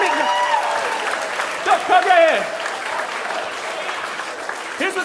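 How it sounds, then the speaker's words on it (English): Audience applause fills a gala hall for a volunteer, steady clapping running throughout, with a voice speaking over it at moments. "Bill, everyone round applause for Bill."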